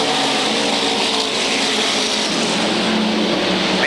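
SK Modified race cars roar around the Waterford Speedbowl oval in 1994, a loud continuous engine drone from the pack with a rising pass near the end.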